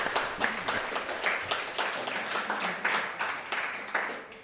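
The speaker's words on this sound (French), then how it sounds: "On applaudit quand même." A studio audience claps together in a steady run of quick, fairly close handclaps, with no talking over it.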